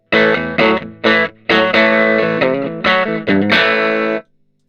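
Electric guitar played through the crunchier second channel of a Blunt Instrument VS30 36-watt amplifier, loud overdriven chords struck in short rhythmic bursts, then a sustained strummed chord that cuts off abruptly.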